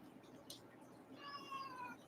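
A bored house cat meows once, a drawn-out, wavering call rising and falling near the end, with a faint click just before it against a quiet room background.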